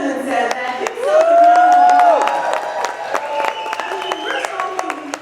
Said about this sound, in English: Give yourselves a round of applause, all of the officers and directors and award recipients this evening